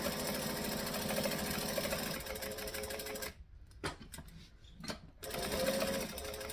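A sewing machine stitches fabric in fast, steady runs, pausing briefly midway with a few short bursts before resuming its close, even whirring chatter.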